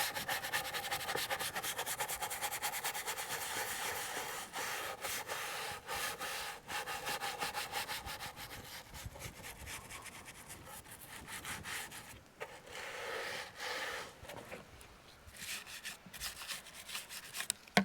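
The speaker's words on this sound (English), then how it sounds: "Let's scrub it just a little bit." A retro computer is scrubbed clean with continuous, rhythmic rubbing strokes, close and steady, pausing briefly before resuming.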